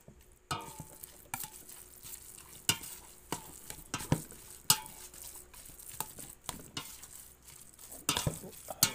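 A spoon scrapes and stirs ground pork filling for mushroom lumpia in a pan, sharp irregular clacks against the metal over a soft background sizzle, close and fairly quiet.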